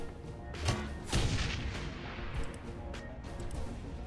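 Gunshots in Shadowrun: Hong Kong land as a few heavy, booming impacts over a low, steady game rumble, spaced irregularly with quieter thuds between.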